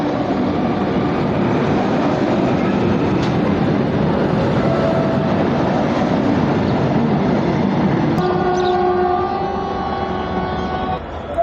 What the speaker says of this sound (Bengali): ঠিক 7টা 49 আমাদের ট্রেন ডিব্রুগড় থেকে কলকাতা স্পেশাল ছেড়ে দিল নিউ কুচবিহার স্টেশন থেকে।